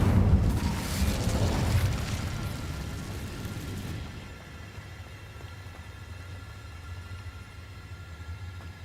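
A fire spell cast in Hogwarts Legacy, heard as a loud whooshing, roaring burst that rumbles for a few seconds and then fades to quiet background ambience.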